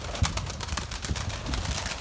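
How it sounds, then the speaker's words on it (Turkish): Trained pigeons, among them a blue male, coo softly against a continuous busy background with some rustling. The coos are low and faint, with no speech. "Haydi görsünler terbiyeli kuşları."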